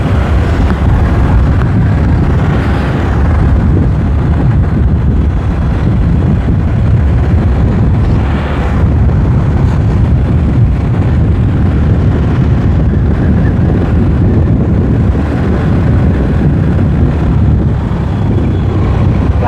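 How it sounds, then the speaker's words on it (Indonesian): Strong wind on an extreme mountain road near Sembungan, Kejajar, Wonosobo, buffeting the microphone as a loud, continuous roar with gusty swells throughout. "Buset, anginnya ya."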